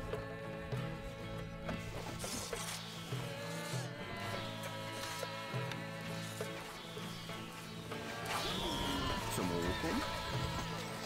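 A horse whinnies over a busy, layered Stronghold: Crusader game soundscape with music and chatter, the call rising clearly near the end.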